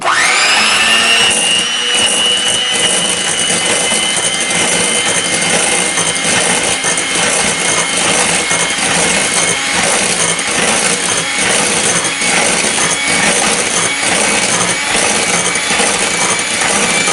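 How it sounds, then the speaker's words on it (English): Hand mixer whirring steadily and loudly as it beats mayonnaise, a sustained electric motor whine with a rising start, running continuously without pause and no talking. "here's your 5-second warning before I stick the hand mixer in and start to mix this up"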